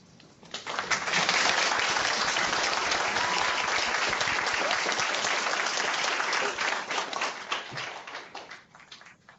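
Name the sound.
applause for Pro Football Hall of Famer Carl Eller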